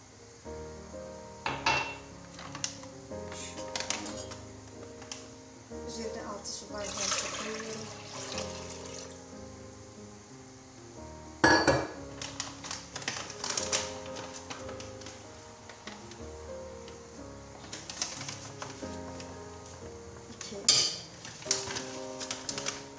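A spoon clinks and scrapes around a pot as grape molasses is stirred with water, irregular quiet knocks and swishes at close range with a few sharper metallic taps, no voices.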